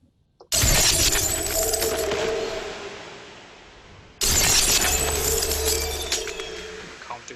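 Two loud, bright swells of layered reversed icy samples in an electronic music production, each rising abruptly and slowly fading, the second entering about midway with a shimmering glassy, shattering texture.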